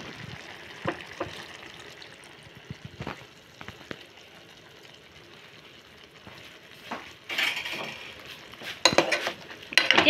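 Hot water poured into a pot of chicken boiling on the stove, with steady bubbling and sizzling, scattered clinks of utensils and a surge of hissing near the end.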